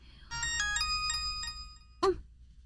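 A cellphone rings with a melodic electronic ringtone of several rising and falling notes, followed by a brief thud, in a quiet indoor scene from a drama.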